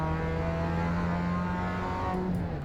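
Race car engine in the iRacing sim game, a steady loud drone with layered harmonic tones holding near-constant pitch throughout, the engine note dipping slightly near the end, no talk.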